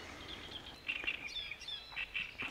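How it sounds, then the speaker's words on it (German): A great reed warbler sings from atop a stalk in a reed belt beside a residential area, giving harsh chattering phrases in short bursts at moderate distance over a low background hum. "Ah, jetzt sitzt der Drosselrohrsänger genau oben auf der Spitze des Halms."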